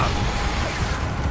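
An Expulso blasting spell goes off in Hogwarts Legacy, a deep rumbling boom with crashing, rattling debris over a short burst, thick and loud throughout.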